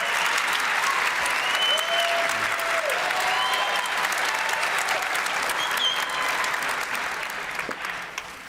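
An audience claps loudly at the start of an atheism and science panel with Sam Harris, Lawrence Krauss and Matt Dillahunty, a sustained wash of applause that tapers near the end, with a few faint whistles and crowd noise.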